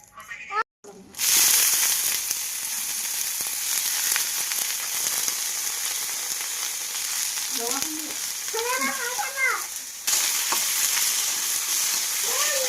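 Assamese chutney ingredients, including coriander leaves and fresh chillies, fry in a little oil with a steady loud sizzle and stirring noises throughout, while a person speaks briefly partway through.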